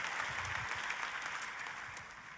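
A church congregation applauding during a sermon, dense sustained clapping from a crowd, steady and fairly loud with no voices over it.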